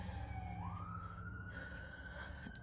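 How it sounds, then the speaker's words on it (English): Emergency vehicle siren passing outside, a steady wail that rises in pitch and holds, fairly loud over a low rumble of traffic, with no talk. "Sorry about the sirens."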